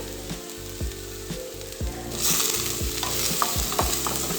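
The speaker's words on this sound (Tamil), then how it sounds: "இதையும் நெய்யில் வதக்கிக்கலாம்." Chopped ginger, garlic and green chilies are sautéed in ghee in a pan, with repeated scraping stirs over a soft sizzle that grows brighter and louder halfway through. No one speaks.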